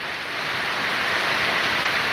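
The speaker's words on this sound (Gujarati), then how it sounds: "અત્યારે તો સારો વરસાદ આવે છે" The first monsoon rain falling steadily over a village, a dense, continuous broadband wash that stays even and fairly loud throughout with no other sounds standing out.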